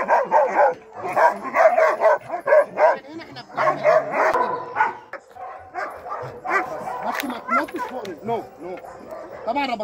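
A dog barking repeatedly in rapid, sharp bursts during attack training on a farm, close and loud, with whimpers and yips mixed in while people talk alongside.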